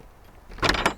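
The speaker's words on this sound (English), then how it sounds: "Has a pantomime creak to the door." A wooden hut door swings open with a short, exaggerated creak, loud and close, rising out of a quiet room in a single rasping sweep just under half a second long.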